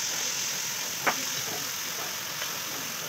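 Meat and onion frying in a wok, heard as a faint, steady sizzling hiss with a couple of brief soft clinks, close up and without voices.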